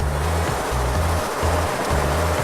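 Hydraulic fluid flushing through a valve of a STAUFF particle counter, a steady loud broadband rush with a low hum that pulses on and off in regular cycles, with no voices.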